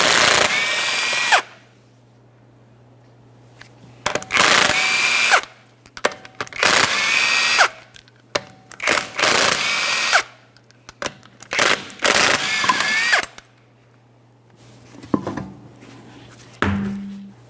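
A power tool removes the five 21mm lug nuts from a front wheel of a 2011–2020 Toyota Sienna, giving repeated loud whirring bursts of a second or two, each followed by brief clinks and quiet gaps.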